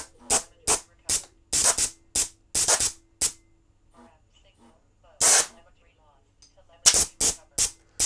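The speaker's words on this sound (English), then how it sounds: "So if I push this up, the two jets at the front should fire." Gas thruster jets on a drone fire in short sharp hissing bursts, loud and close, in uneven clusters with gaps between them and one longer blast near the middle, with no talking over them.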